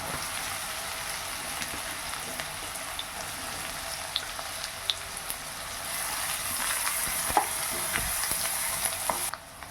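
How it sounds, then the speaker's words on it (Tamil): Two chopped onions added to browned garlic and frying in hot oil for a green gram gravy, giving a steady close sizzle with occasional light crackles and a brief stirring clatter near the end. "2 வெங்காயம் கட் பண்ணி எடுத்துகிட்ருக்கேன், அதுவும் சேர்த்துருவோங்க."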